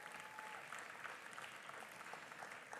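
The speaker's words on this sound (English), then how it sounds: "Let's give them a round of applause again." Audience applause at an awards ceremony for women in IT security, a steady wash of clapping from a crowd that holds evenly through the whole stretch without a pause.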